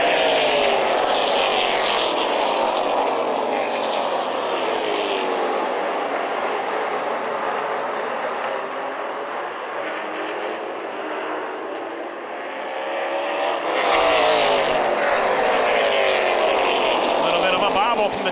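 Dirt track race cars roar around the New Paris Speedway backstretch and through turns three and four, a loud continuous engine din that swells and fades as the pack sweeps past.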